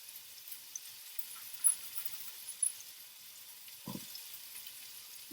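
Zucchini sizzles and chars in a hot pan with a faint, steady hiss, broken by a few soft clicks and a low knock.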